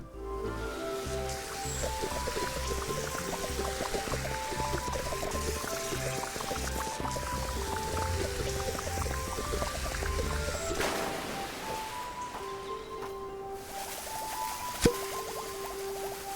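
Water running steadily as a tank is refilled in Fresh Start Cleaning Simulator, a continuous pouring hiss over soft background music that cuts off partway through.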